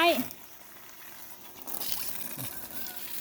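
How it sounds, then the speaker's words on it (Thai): Water gushes strongly from a submersible pump through a 20-metre, 1-inch garden hose, a steady rushing wash that grows fuller partway through and stays moderately quiet. "ดูไหลของน้ำนะคะตอนนี้เราต่อกับสายยาง 20 เมตรนะคะ สายยาง1นิ้ว น้ำไหลแรงมาก ๆ เลยนะคะ"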